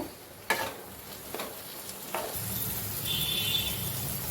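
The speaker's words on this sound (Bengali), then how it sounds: "টমেটো একটুখানি ভেজে নেব" Chopped tomatoes go into a pan of fried onions: three sharp spoon scrapes, then a soft sizzle that builds and holds, faint and close.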